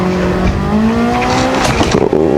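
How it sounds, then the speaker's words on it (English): A racing car in the Gran Turismo 7 video game slides with a steady, loud tire squeal over the droning engine, the screech sustained throughout with no talking. "This car's sliding."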